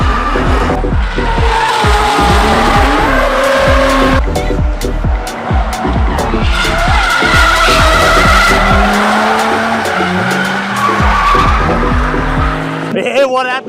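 A car drifting at a spring matsuri drift event at Ebisu, engine revving up and down with sustained tire squeal and skidding, loud and close, other engines layered in.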